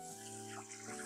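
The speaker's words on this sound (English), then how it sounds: "first thing we're going to do is rinse the lettuce" Tap water runs over lettuce being rinsed in a kitchen, a brief faint splashing stream under a steady hum, with no talk.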